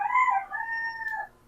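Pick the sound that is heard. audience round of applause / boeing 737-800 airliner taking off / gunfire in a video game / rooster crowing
rooster crowing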